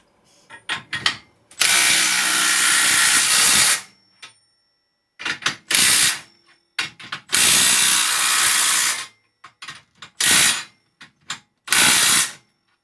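A Makita 18V impact wrench on nut-release setting 1 hammers loose a nut, loud close rattling bursts of impacts, two long runs and several short ones separated by brief pauses and clicks.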